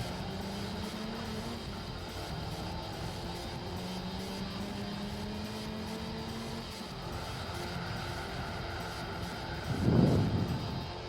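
A steady, droning inline-four car engine in Gran Turismo 4 hums at a constant pitch with a faint whine, swelling briefly near the end.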